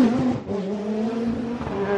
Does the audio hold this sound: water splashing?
no